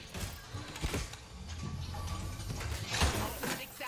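Mechanical clicking, ratcheting and clanking from an item being crafted in a video game, a steady busy layer of small metallic sounds with sharper clacks near the start and end, close and moderately loud.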